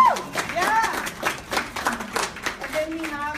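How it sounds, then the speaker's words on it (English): An audience at a press gathering breaks into a round of clapping mixed with whoops and excited voices, the applause rising and falling in bursts. "Let's give them a round of applause."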